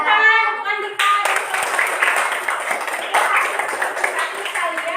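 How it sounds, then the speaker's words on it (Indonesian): A school class claps for a student named Andika after a science experiment presentation. A burst of many small hands clapping fills the room after a teacher's voice and fades back toward her speech. "tepuk tangan untuk Andika"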